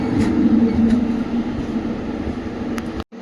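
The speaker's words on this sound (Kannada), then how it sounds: "ಅಮರಾವತಿ ಎಕ್ಸ್ಪ್ರೆಸ್ ಕೋಲ್ಕತ್ತಾದಿಂದ ಬರ್ತಿದೆ ಗಾಡಿ." Amaravati Express from Kolkata rolling into a station, a loud, steady low rumble of wheels and coaches that holds throughout and cuts out sharply near the end.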